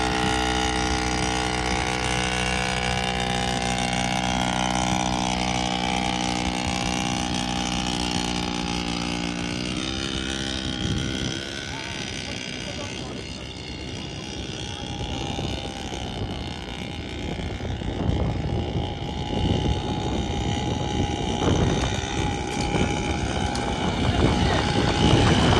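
Quad bike engine droning steadily through a ride, loud and close with a shifting pitch midway as the machine changes speed, mixed with wind buffeting and no talk.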